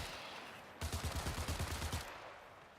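Burst of rapid gunfire in the video game ARC Raiders, a fast string of roughly a dozen sharp shots lasting about a second, fairly close, with a quiet pause before and after.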